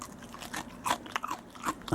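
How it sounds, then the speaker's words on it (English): Crispy fried shrimp being bitten and chewed close to the microphone, a run of brittle crunches and crackles over two seconds with no speech. "That's me crunching on some."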